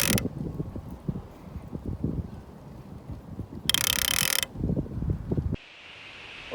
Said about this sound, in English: The clicker has been modified to be twice as loud.